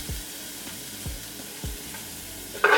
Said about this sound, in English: I'm gonna go ahead and add my garlic and my onions.